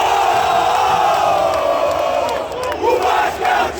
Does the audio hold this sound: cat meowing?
no